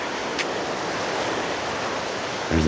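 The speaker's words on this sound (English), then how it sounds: "You can probably hear the water in the background." Ocean waves at New Dungeness beach roar as a steady broadband wash of surf, with some wind, and a short low bump at the very end.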